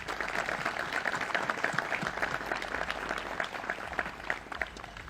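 A crowd applauds at a Memorial Day ceremony in Chicopee, honoring seven graduating high school seniors who committed to military service. Steady, dense clapping holds throughout at moderate loudness with no talk.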